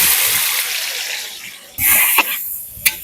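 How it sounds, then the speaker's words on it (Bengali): Onion frying in hot oil in a village kitchen, a loud hissing sizzle that drops after a moment, then a sharp splashing burst and a couple of brief clatters. "পেঁয়াজটা ভেজে নেবো।"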